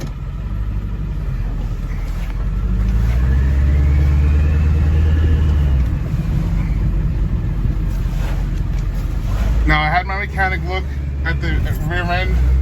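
A 2001 Ford E450 cutaway flatbed with a 7.3 Power Stroke diesel drives along, its low engine drone and road rumble steady and loud throughout, with wind noise over the microphone and a voice talking briefly near the end.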